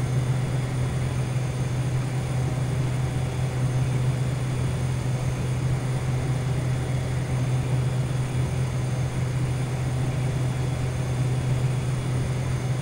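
A Cessna's engine drones in Flight Simulator X, a steady, unchanging propeller hum with a low tonal note that holds evenly throughout, with no talk over it.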